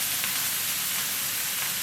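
Carrots, mushrooms and onions sizzle steadily in a hot pan, a soft continuous hiss with faint crackle throughout, no voices.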